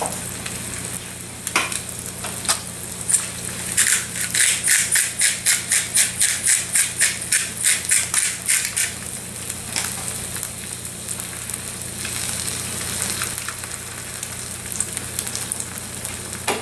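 A ribeye steak seasoned with salt and pepper sizzles loudly on a flat griddle. The frying hiss is steady and close, and a stretch in the middle carries a quick rhythmic run of scraping pulses.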